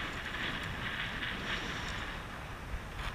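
Wind blowing over open water during kayak fishing for fluke and flounder, a constant airy rush buffeting the microphone with a steady, moderately faint wash and no talking.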